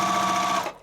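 A sewing machine runs a steady, loud stitching whir with a fine high whine while stitching a makeup bag, then stops and fades out within a second.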